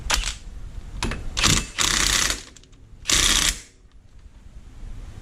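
Ryobi impact tool on its auto setting tightens a new rear axle nut on a 2006 Yamaha Kodiak 450 ATV, several close, rapid hammering bursts of uneven length with short gaps between them.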